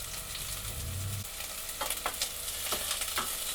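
Vegetable pieces such as beet and onion frying in oil in a saucepan, a soft steady sizzle with a few sharper crackles and pops later on, heard close and alone with no talk.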